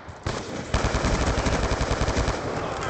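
Sustained automatic gunfire from Call of Duty Black Ops II, a loud, rapid unbroken burst of machine-gun shots starting after a brief lead-in and running the whole span with no talking.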